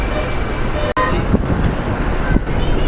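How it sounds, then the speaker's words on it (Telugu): Steady road traffic rumble during a bus ride on the way to a Dasara puja, with a brief horn toot near the start and a continuous engine and road drone throughout. "బస్సులో వెళ్తున్నాము."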